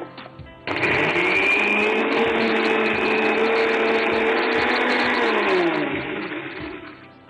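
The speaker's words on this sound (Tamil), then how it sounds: "வாழைத்தண்டை ஆட் பண்ணிக்கோங்க. இது நல்லா அரைச்சிடுங்க." A mixer grinder starts abruptly and grinds banana stem with a loud, steady whirring motor whine, then winds down as the blades slow.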